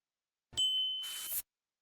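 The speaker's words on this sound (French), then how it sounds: "abonnez-vous à la chaîne et cliquez sur la cloche" A single bright notification bell ding rings out alone, with a clear sustained tone that fades over about a second against silence.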